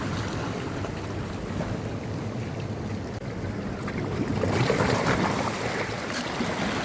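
Sea waves wash continuously onto Thottada Beach, a broad hissing surf roar with wind buffeting the microphone, swelling slightly louder toward the end.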